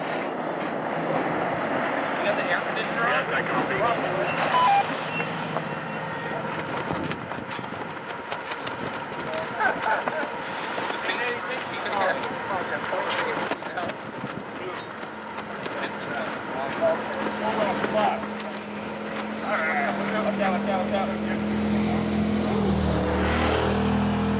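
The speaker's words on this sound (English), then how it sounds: "And then the Silverado pulls in." Hall Racing Chevrolet Silverado race truck pulling into pit lane, a steady engine roar with passing race traffic noise throughout, loud and continuous, with voices talking over it.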